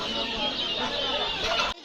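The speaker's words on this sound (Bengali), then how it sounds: "এই যে হলো দেশি মুরগি" Native country chickens cluck busily in a dense, chattering flock, steady and close, ending abruptly.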